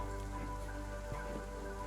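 Steady rain falls in the Power To The People city-building game, a dense, even patter that runs unbroken through the whole stretch with no voices over it.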